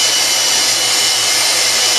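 A power sander smoothing a stainless steel screw shaped into a slip harpoon tip, a loud steady high whirring hum running unbroken for a couple of seconds, close up with no talk.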